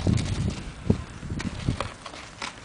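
A ridden horse walks with a steady clip-clop of hooves, fairly close and clear, several footfalls in an even rhythm with faint background noise.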